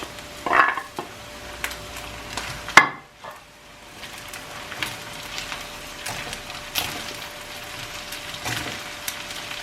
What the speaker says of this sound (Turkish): Biberler ölene kadar karıştırıyoruz.